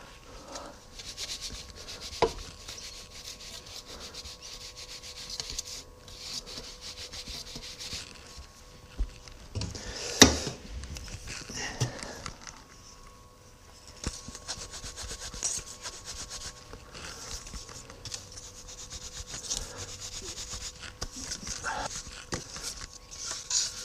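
Sand being packed and rubbed by hand into a casting mould for an aluminium Maserati pulley half, a steady scraping and gritty rubbing close by, with a sharp knock near the middle.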